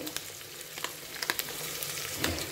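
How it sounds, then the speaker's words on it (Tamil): Onions sautéing in a pan until golden brown, a soft continuous sizzle with scattered crackles and light stirring scrapes, moderately quiet and close, no voices. "வெங்காயம் நல்லா கோல்டன் ப்ரௌன் ஆகணும் அது வரைக்கும் இதை வதக்கலாம்"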